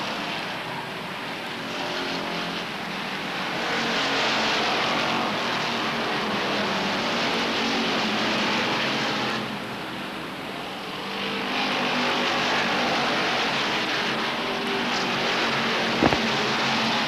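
Stock cars race at Beech Ridge Motor Speedway during a 1992 weekly event, a continuous roar of many engines that swells and fades as the pack sweeps past, with no voices over it.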